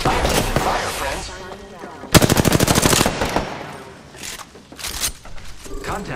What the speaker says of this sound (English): Open fire on the enemy.